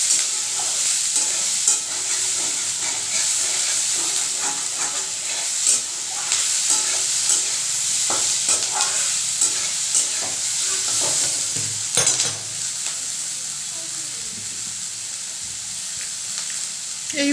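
Ingredients for paneer masala frying in a pan, a loud steady sizzle with repeated scraping stirs of a spatula close by.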